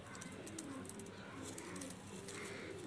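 A large Jaunsera pigeon coos close by, soft repeated throaty calls over a steady background hum and faint rustling.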